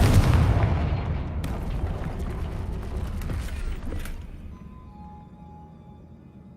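Confringo fire spell blasting in Hogwarts Legacy, a loud booming burst at the start that rumbles and decays over several seconds into a quieter ambient tail.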